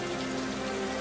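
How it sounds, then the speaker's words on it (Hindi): Heavy rain pours steadily on a village in an animated story, a dense, even hiss without pause and with no voices. "ऐसे ही एक बार गांव में बहुत तेज बारिश हुई।"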